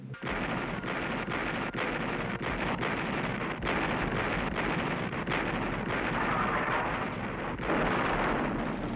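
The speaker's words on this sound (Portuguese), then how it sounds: "925 canhões abrem fogo sobre esse alvo." A dense, continuous roar of heavy gunfire with repeated booming blasts layered over one another, loud and sustained: a massed World War II artillery barrage of 925 cannons at Monte Cassino.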